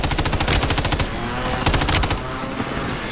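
Rapid automatic gunfire from a video game, two loud close bursts of evenly spaced shots separated by a short pause, with a faint tail afterward and no talk.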